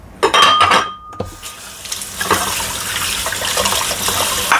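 Seafood, including shrimp, rinsed under a running kitchen tap, with a few sharp clatters of handling at first, then a steady loud rush of water filling the sink.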